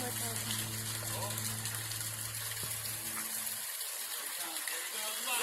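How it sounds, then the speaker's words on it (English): Well water gushes from a line under a dock in a steady, hissing rush of spray. It sounds close and continuous while a low mechanical hum underneath cuts out partway through. "I'm going to turn on the well water."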